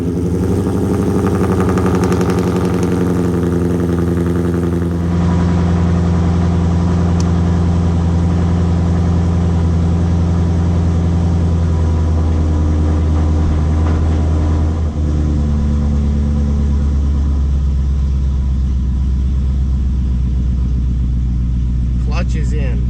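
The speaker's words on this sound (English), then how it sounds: "when it's in neutral, the transmission is rotating" A car with a BC Stage 3 transmission idles in neutral, the transmission spinning. The engine holds a loud, steady, close drone with a droning rumble that barely changes throughout.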